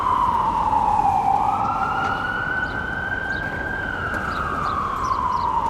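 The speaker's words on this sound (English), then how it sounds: "having ambulances drive through this neighborhood is totally normal" An ambulance siren wails on a New York City street, a loud continuous tone that rises and sweeps slowly in pitch over steady traffic rumble, with no talk.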